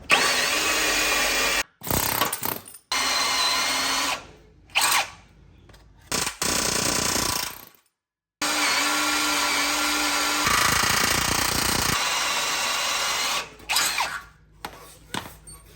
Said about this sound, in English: I'm gonna drill these a little bit to relieve them